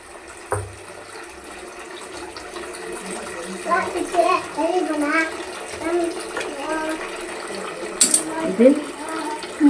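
Fish being washed by hand in water with turmeric and salt, with a continuous sloshing and trickling of water, scattered clinks and rubbing, and muffled voices faintly underneath.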